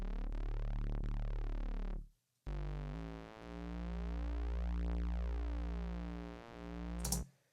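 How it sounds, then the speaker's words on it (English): Static bass synth from Logic's ES2 plugin, a buzzy, harmonically rich sustained tone with sweeping comb-like filter motion, played in two long loud notes separated by a short gap and ending with a brief click. "The way that I made that sound was I used Logic's internal synth plugin called ES2"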